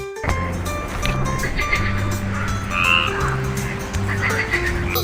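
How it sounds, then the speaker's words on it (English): A frog croaks in steady repeated low calls amid background music in an educational animal piece for toddlers, the calls continuing at moderate loudness throughout. "Wow, this is a frog!"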